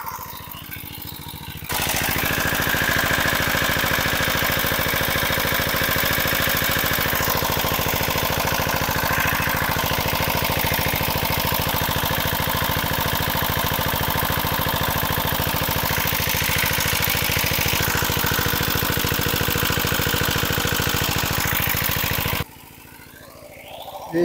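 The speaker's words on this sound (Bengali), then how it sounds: "এই যে সিডি ইঞ্জিন, এই আরপিএমটা দেখিয়ে দিচ্ছি।" A Three Circle CD175 engine drives a water pump, running at a loud, steady, continuous drone for about twenty seconds before cutting off abruptly.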